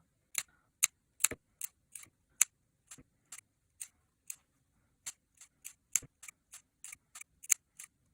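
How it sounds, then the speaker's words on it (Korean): Scissors snipping notches into the curved edge of a fabric pouch with a French embroidery frame, a quiet run of about twenty crisp, separate clicks at an uneven pace against near silence. "그 다음에 가위로 이 곡선 부분 가위밥을 내주세요."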